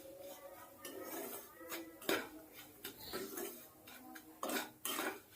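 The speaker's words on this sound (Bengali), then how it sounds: "সমানে নেড়ে যেতে হবে, পুরটা যাতে পোড়া না লেগে যায়" A metal spoon scrapes and clinks against a pan in irregular strokes, fairly faint and close, as a sweet singara filling is stirred over low heat.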